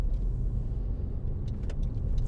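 Cars passing on a road near Fort Myers after a hurricane, a steady low rumble of traffic with no pauses and no talk.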